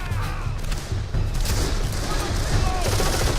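Machine gun fire from a futuristic weapon in the Darkest of Days video game, a dense continuous fusillade of rapid shots with booming low thuds, loud and steady throughout.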